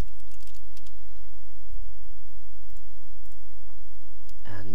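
Typing on a computer keyboard, a run of quick, close clicky keystrokes over a steady electrical hum, ending in a louder burst of key presses.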